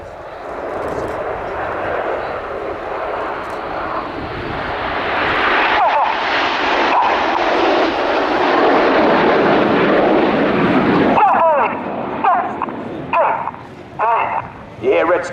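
Red Arrows display jets trailing smoke make a flypast at the Royal International Air Tattoo 2016, their loud broadband roar swelling to a peak before cutting off sharply, after which a commentator's voice carries on over faint background noise.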